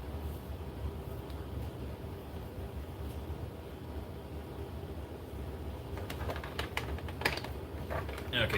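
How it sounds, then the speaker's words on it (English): A distant train rumbles past, a faint, steady low drone with a few light clicks and taps near the end. "that's our train. It's about the only train that comes through."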